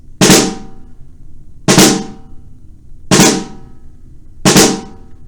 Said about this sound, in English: Our third rudiment is called the flam.